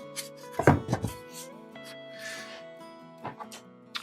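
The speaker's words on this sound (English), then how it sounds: "we can get ready for the hot knife. Get this part carved up and back into place." A hot knife carving terrain for a river scene model: a steady electrical hum runs throughout, with a few close, quiet scraping and cutting bursts near the start and end.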